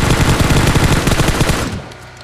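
Automatic weapon fire in PUBG, a loud, rapid burst of shots close by that runs for about a second and a half before cutting off into quieter game ambience.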